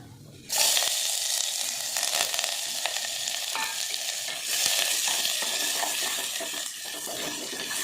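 Mustard seeds, garlic, cumin, pepper, dried chilli and curry leaves sautéing in hot oil, bursting into a loud, dense sizzle after a brief quiet start and crackling on with scattered stirring.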